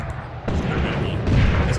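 Heavy gunfire and cannon blasts from a WWII desert tank battle in Tank Warfare: Tunisia 1943, dense overlapping booms and bursts stepping up in intensity, with a voice faintly underneath.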